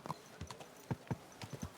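Horse hooves clip-clopping in Kingdom Come Deliverance 2, a close, uneven series of about a dozen hoof strikes at walking pace, each a short knock, with no talk.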